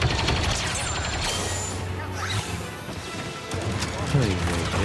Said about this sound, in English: Grenade! Make way!